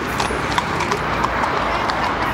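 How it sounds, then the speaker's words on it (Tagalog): A horse-drawn kalesa carriage in Morocco clip-clops along with rhythmic hoof beats under a loud wash of street noise, while people talk nearby. "May kalesa"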